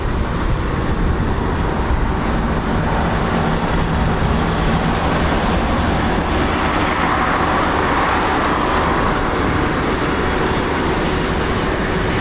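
A Eurofighter Typhoon FGR4 jet at RAF Coningsby gives off a loud, continuous broadband engine roar that holds steady without a break for the whole stretch, with no voices.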